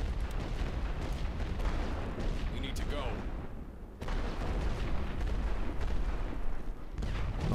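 Artillery fire from a First World War strategy game set at the second battle of Passchendaele, heard as a continuous rumbling barrage of deep booms with scattered sharper blasts throughout.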